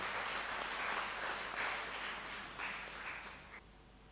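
An audience claps through a birthday celebration for a priest, a dense patter of applause at moderate distance that swells in waves and fades near the end.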